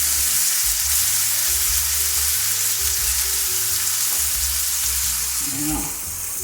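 A T-bone steak frying in oil in a pan over medium-high heat gives off a loud, steady, even sizzle, close and uninterrupted, with only a faint brief background knock near the end.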